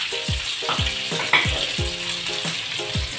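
Garlic cloves fry in a pan as the base for a sofrito, giving a steady close-up sizzle broken by repeated stirring scrapes at a regular pace.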